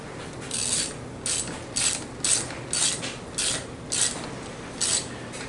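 A ratchet tightens the mounting bolts on a Detroit 6.2L diesel starter, giving about ten rapid clicking bursts in a steady back-and-forth rhythm, close and clear with no talk.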